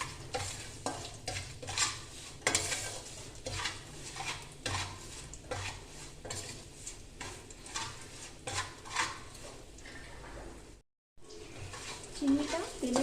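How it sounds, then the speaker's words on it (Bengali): A chivda mixture of flattened rice with salt and turmeric is stirred in a pan, giving repeated scraping and rustling strokes over a faint sizzle, with a brief dropout near the end. "নুন, হলদি দিয়ে ভালো করে এটা মিশিয়ে নেব।"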